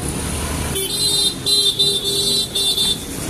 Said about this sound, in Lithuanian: visi pypsi, čia mano vyras, žinokit, pypsi